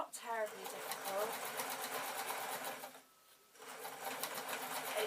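A sewing machine set to a large stitch runs steadily through two thick layers of felt, a loud continuous whirring and rapid needle chatter that halts briefly, then resumes, with some faint talk beneath it.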